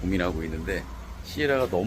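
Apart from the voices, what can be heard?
No everyday noises stand out.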